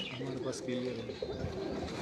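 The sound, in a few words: pigeon cooing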